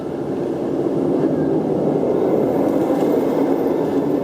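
A roller coaster train runs on a 400-foot-tall coaster at Six Flags Magic Mountain, giving a loud, steady rumbling roar that holds throughout without a break.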